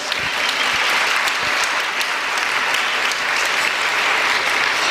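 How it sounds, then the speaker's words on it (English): An audience at a community honoree event breaks into loud sustained applause, a thick continuous wash of many hands clapping at close range with no one speaking over it. "Give Mary Henry a big round of applause."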